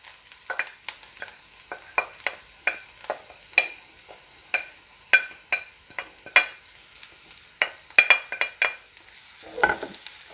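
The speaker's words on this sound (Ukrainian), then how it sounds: "Обсмажуємо цибульку до легкої золотавості і додаємо морку" Onion and carrot fry in a pan, with soft sizzling broken by repeated rhythmic scraping strokes of a utensil stirring, fairly close and moderately quiet.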